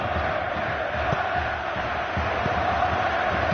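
Stadium crowd in the football video game PES during a Euro 2016 match, a dense continuous roar of massed voices with faint chants and thuds underneath, steady and fairly loud.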